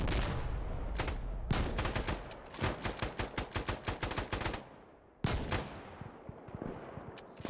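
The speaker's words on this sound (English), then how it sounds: "That was a good shot." Gunfire in the video game Insurgency Sandstorm: a few single shots, then a long run of rapid automatic bursts, a pause, and more loud sharp shots close up.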